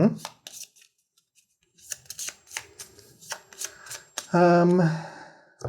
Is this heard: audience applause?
no